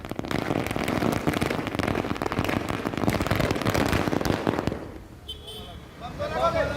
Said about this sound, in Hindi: बालोद में भी जिला कांग्रेस भवन पर कांग्रेसियों ने जमकर आतिशबाजी की